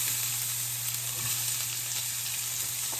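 Chopped onion sizzles in hot olive oil in a pan over medium heat, giving a steady, close hiss with faint stirring scrapes and no talk.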